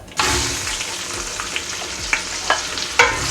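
Meat sizzles in a pan with curry powder and onion for Nigerian party jollof rice, with a steady frying hiss and several sharp scrapes of a spoon stirring through it.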